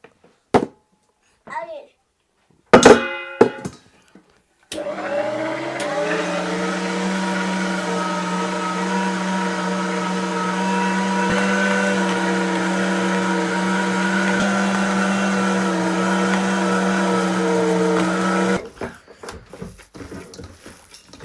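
An electric meat grinder runs steadily for about fourteen seconds, mincing meat finely for meatballs destined for goulash, with a strong motor hum and layered harmonic whine; brief kitchen clatter and handling noises come before it, and rustling follows after it stops.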